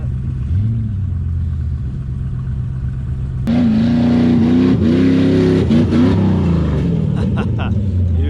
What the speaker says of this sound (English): I want to watch my 4runner go up this by itself.